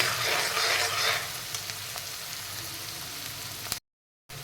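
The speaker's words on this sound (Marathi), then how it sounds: "कांदा चांगला भाजला गेला पाहिजे।" Onion fries in a pan with a dense, steady sizzle and light stirring clicks, strong at first, then easing, before breaking off into brief silence.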